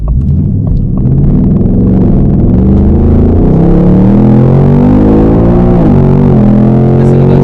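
A 2021 Ford Mustang Mach 1 accelerates hard, its loud, close engine note climbing steadily in pitch with a quick gear shift near the end.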